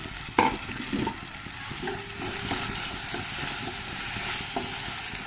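Finely chopped tomato goes into onion frying with ginger-garlic paste in a pan, giving a soft continuous sizzle with a few stirring knocks and scrapes near the start, no voices.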